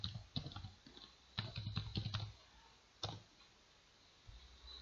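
Typing a command on a computer keyboard during a Linux terminal session, a few quiet, close bursts of key clicks separated by short pauses, with no talk.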